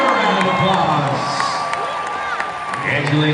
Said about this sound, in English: And give her a round of applause.